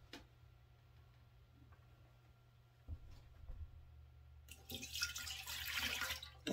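Room-temperature water runs from a tap into a measuring cup for a bread maker, starting faintly after a few quiet ticks and drips, then rising into a louder, steady splashing stream.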